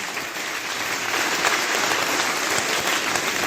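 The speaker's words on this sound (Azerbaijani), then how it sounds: "birinci leydi Mehriban xanım Əliyevanı alqışlayaq." An audience applauds at a cultural event honouring the first lady, a dense, steady wash of clapping that swells slightly and holds evenly loud throughout.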